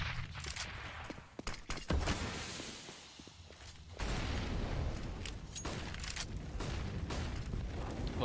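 Grenades going off during a CS:GO match on Inferno, a rapid burst of sharp blasts and whooshing debris followed by a rumbling, sustained wash of explosions.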